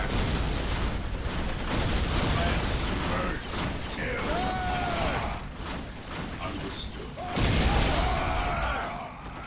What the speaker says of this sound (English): Oh, explosions everywhere.